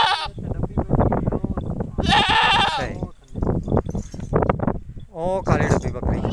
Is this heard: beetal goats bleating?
yes